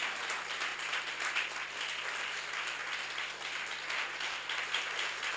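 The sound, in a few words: church congregation clapping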